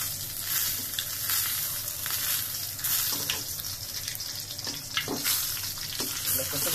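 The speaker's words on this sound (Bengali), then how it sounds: "আমি একটা পুরি ভেজে নিচ্ছি একই সাথে" A puri fries in hot oil with a dense, continuous sizzle and crackle, punctuated by occasional sharper pops and light utensil movements close by.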